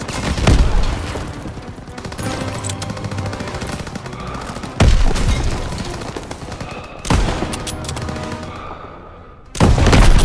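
Gunfire and heavy sniper rifle shots in the Call of Duty WWII game, loud sharp blasts every couple of seconds over dense battle noise and rumbling.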